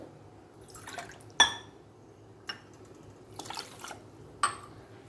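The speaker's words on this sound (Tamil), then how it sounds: "இப்போது தேவைக்கு தண்ணி விட்டுப்போம்." Water poured over sugar in a kitchen to make syrup for bakery-style badusha, heard as a few brief splashes and drips against a quiet background, with no talking.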